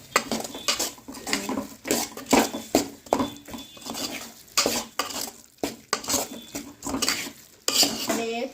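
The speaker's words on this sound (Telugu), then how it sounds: "సరే, కారం వేసుకొని కలిదిప్పుకున్నాం." A spoon scrapes and clinks against a pan while drumstick curry with chili powder is stirred, an irregular run of close metallic knocks and scrapes with a faint sizzle underneath.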